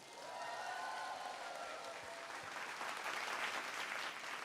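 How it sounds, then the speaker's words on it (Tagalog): A crowd at a success academy business event breaks into loud applause that swells and stays dense and sustained, with a trace of voices beneath the clapping. "palakpak ng malakas!"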